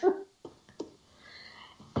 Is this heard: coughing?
yes